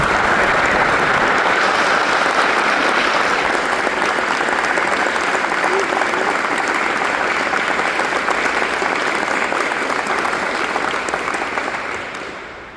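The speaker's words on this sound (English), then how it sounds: "Let's have a round of applause for Chief Stevenson's family." A crowd at a Coast Guard retirement ceremony gives a sustained round of applause. The dense, loud clapping runs steadily for about twelve seconds, then fades at the end.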